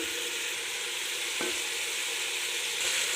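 Chicken sizzles steadily in a pan as spices are added for chicken pasta, a continuous close frying hiss with a short scrape partway through.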